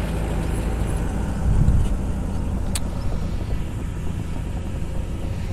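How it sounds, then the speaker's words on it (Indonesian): Trucks carrying building materials drive into the MotoGP race circuit area under construction in Lombok, a steady, fairly loud engine rumble with a brief heavier surge partway through. "beberapa truk juga bisa kalian lihat sedang masuk ke wilayah sirkuit ini"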